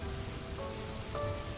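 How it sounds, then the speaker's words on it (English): Soft night rain patters steadily on a surface, a continuous gentle hiss with faint tonal hum beneath, even and close throughout. "let the soft rhythm of the rain guide you"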